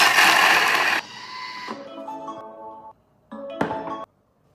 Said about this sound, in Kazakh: Қақпағын жауып 10 секунд 10-шы жылдамдықта езіп аламыз.